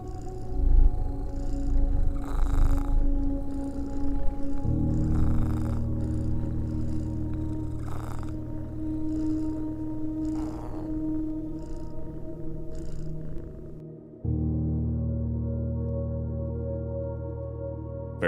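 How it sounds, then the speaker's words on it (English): A domestic cat purrs loudly and steadily right up close in a continuous rumbling drone, its rhythm pulsing with each breath and no voices over it. "That's my cat Wolfie."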